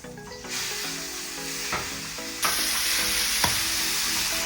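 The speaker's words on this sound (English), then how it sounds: "Listen to that sizzle." Meat sizzling loudly in a hot frying pan, a dense steady hiss of frying fat with a sharper surge partway through and a few crackles and pops, heard up close with no talk.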